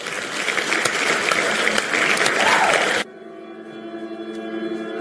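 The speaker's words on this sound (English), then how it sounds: "Round of applause!" Studio audience applause for a performer at a horror story event, dense and loud, then cut off abruptly about three seconds in, leaving a quieter music-like bed.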